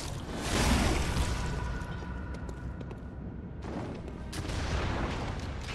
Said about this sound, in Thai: มันยิงปืนได้ด้วยอ่ะ มันเป็นฮันเตอร์เหมือนเราอ่ะ